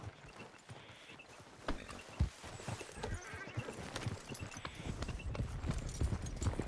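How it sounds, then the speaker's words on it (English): Horse hooves clip-clop at a walk through a Red Dead Redemption II game scene near the Canadian border, with a brief whinny among the steady hoofbeats over low ambient noise. "What's wrong with this horse?"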